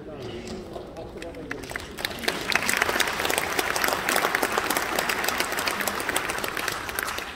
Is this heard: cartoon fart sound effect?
no